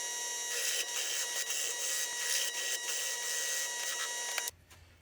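A drill bit cuts a shallow recess into scrap wood for a tool stand with a steady, close whirring grind that stops abruptly just before the end.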